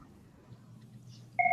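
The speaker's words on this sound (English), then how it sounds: "Kurt, get that phone, will you?" A telephone starts ringing in a room during a panel discussion. A steady electronic tone cuts in loudly over a quiet low hum, and nobody speaks.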